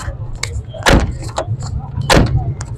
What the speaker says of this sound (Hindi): बैक दरवाजे की साउंड भी सुन रहे हैं, टक टक की आवाज़ आ रहा है।